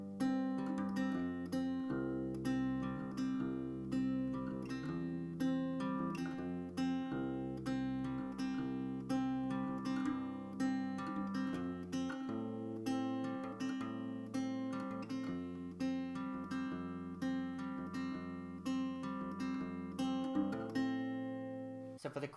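An acoustic guitar plays the chorus of a song, plucked chord arpeggios ringing steadily and close for over twenty seconds with no talking.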